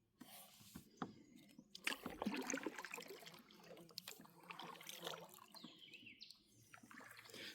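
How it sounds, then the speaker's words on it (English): Small water splashes and trickles come from a paddle making corrections on a fishing kayak, irregular and close by, with faint bird calls in the background. "Those small splashes are just me correcting."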